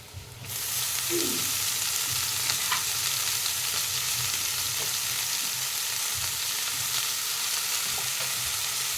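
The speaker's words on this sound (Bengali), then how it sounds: "বেগুনটা ভালো করে ভাজা হয়ে গেছে। এবার আমি কেটে রাখা মেথি শাকগুলো দিয়ে দেবো এখানে।" Brinjal and fenugreek leaves fry in a pan with a loud, continuous sizzle, broken now and then by faint stirring scrapes, no talking.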